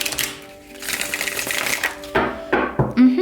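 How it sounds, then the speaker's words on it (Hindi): Tarot cards shuffled close up in a quiet room, giving a run of quick riffling and tapping clicks that end in a few sharper snaps. "शफल कर लेते हैं कार्ड्स को ऑप्शन 1 के लिए"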